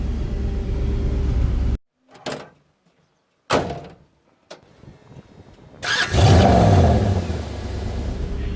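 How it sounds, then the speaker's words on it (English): A car engine fitted with an MSD 6014 ignition cranks and sputters, cutting out between uneven attempts before catching and roaring loudly with rough misfiring, heard close with no talk. "Here we go again. Misfiring like crazy."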